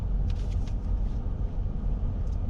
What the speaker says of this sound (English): We're gonna wait for this car, see what he's doing first.